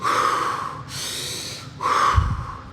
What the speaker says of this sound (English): we're going to be doing 3 cycles of intensive in and out breathing like this